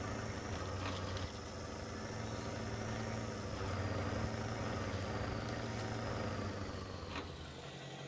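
A modded truck idles in a driving game with a steady low engine rumble and a constant high tonal whine, interrupted by a few faint clicks.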